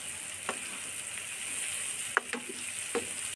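Whole cumin seeds crackle and sizzle in hot oil in a pan, a steady frying hiss broken by a few sharp pops and clicks of stirring, close and alone with no voices.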